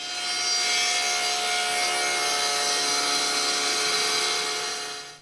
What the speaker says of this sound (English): Now we'll make that pass, shaving off the edge of the board.